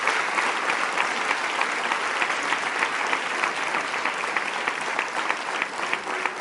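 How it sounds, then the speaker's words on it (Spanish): A church gathering in Chile breaks into strong, dense audience applause that rolls on steadily and evenly throughout, with no pause and no voices standing out. "Denle un aplauso bien fuerte al Rey"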